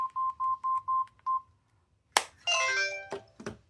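A Motorola T219 flip phone plays its tone. First comes a rhythmic run of six short, clear beeps, then a pause, then a bright, ringing burst of chimes and notes that fades with a few last taps. No one speaks.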